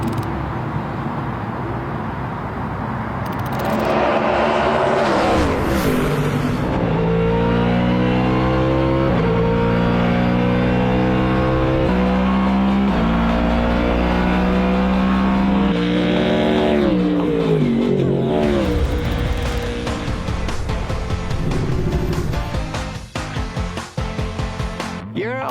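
A Ford Mustang endurance race car's hand-assembled engine screams past at full throttle, rising through gears with repeated shift steps, loud and close before fading away, with brief talk faintly underneath.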